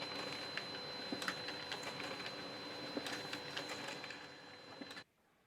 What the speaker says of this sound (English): So I'm going to start by printing.